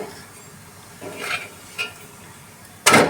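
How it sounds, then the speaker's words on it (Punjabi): A rice paratha flipped and roasted on a hot pan gives a few short scraping, stirring bursts over a faint low sizzle, ending in one louder, sharper clatter. "ਇਸ ਤਰ੍ਹਾਂ ਅਸੀਂ ਇਹਨੂੰ ਉਲਟਾ ਪਲਟਾ ਕੇ ਸਾਰੇ ਸਾਈਡਾਂ ਨੂੰ ਚੰਗੀ ਤਰ੍ਹਾਂ ਸੇਕ ਲਵਾਂਗੇ"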